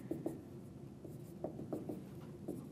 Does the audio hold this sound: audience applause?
no